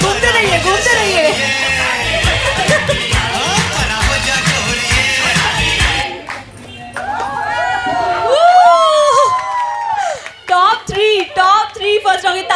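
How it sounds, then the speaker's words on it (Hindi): An audience at a ladies' game show applauds and cheers the participants, loud crowd noise dominating the first half before fading into excited voices and calls, with bursts of clapping and shouting near the end. "तो तालियां बजा दीजिए हमारे पार्टिसिपेंट्स"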